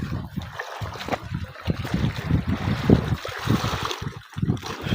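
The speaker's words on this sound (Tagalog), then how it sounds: "Medyo may agos eh. Mabilis maanod." A fairly swift river current flows steadily while someone in a small boat or canoe is tied in place, a continuous watery wash with trickling and lapping, close and moderately loud throughout.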